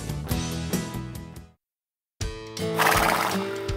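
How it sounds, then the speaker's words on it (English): Horses neigh loudly nearby in two separate whinnies split by a brief silence, each a shaky, descending call. "If you love everything about horses, the way they look, the way they sound"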